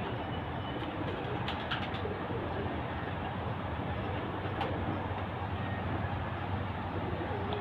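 Pigeons cooing at a pigeon farm, a steady dense wash of soft calls and flock noise that fills the whole stretch with no talking.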